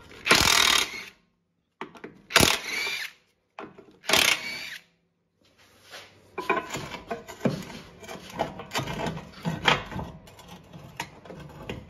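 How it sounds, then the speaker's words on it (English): Ratchet clicking in bursts as 17 mm nuts and a bolt come off the front lower control arm of a 2007-2012 Acura RDX, with short pauses between strokes and steady mechanical rattling toward the end. "I'm gonna remove these two 17mm nuts and the 17mm bolt"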